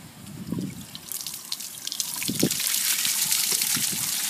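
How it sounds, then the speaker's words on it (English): Water draining from an RV trailer's gray holding tank, opening with a few gurgles and splashes that build into a steady rushing flow, fairly close and loud. "Release any water that's in your gray tank."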